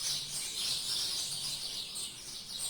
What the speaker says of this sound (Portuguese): Passarinhos.